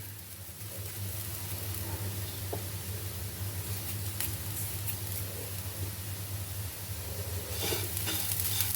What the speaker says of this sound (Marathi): भाजी व्यवस्थित ढवळून घ्यायची आहे